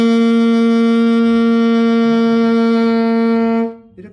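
A single loud, steady alto or tenor saxophone note played with a loose embouchure, the reed barely touched, held for several seconds with a slightly flat, loose tone, then cut off abruptly into quiet room noise.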